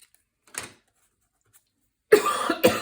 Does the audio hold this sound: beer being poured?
no